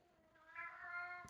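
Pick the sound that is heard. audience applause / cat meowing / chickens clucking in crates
cat meowing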